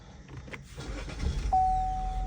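A Chevrolet car's engine is started: a short starter crank and catch, after which the engine settles into a steady idle with a thin whine, heard close up and without talk.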